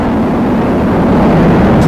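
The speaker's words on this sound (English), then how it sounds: "Rocket beginning to roll." A Falcon Heavy rocket's 27 Merlin engines roar during liftoff, a loud, steady low rumble that fills the whole moment without a break.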